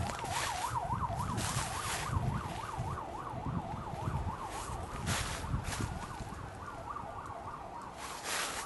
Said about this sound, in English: The sirens, I swear to God.